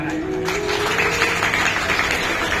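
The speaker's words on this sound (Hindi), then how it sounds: "एक बार तो पहले सभी पुरुष लोग तालियां बजाएंगे महाराज" Men in the audience at a Bhagavat Katha religious discourse applaud, a dense, steady wash of clapping heard alongside a voice.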